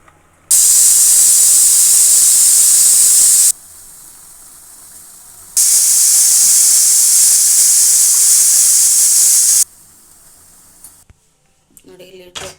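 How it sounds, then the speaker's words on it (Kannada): Pressure cooker holding vegetable pulao, whistling and venting steam in two long loud hissing bursts, the second after a short lull, followed by quieter kitchen noise at the end. "ಒಂದು 2 ವಿಸಿಲ್ ತೊಗೊಂಬರೋಣ."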